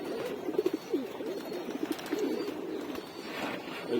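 Domestic pigeons in a home loft coo in a steady, overlapping murmur, several birds rumbling close by with no talking.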